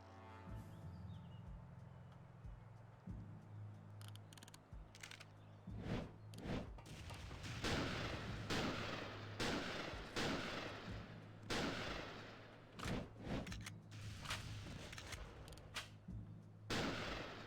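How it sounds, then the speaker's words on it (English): Grenade explosions in TimeSplitters Future Perfect, several sharp loud booms in a cluster amid gunfire, repeated bursts over a steady low hum. "I threw the grenades too low"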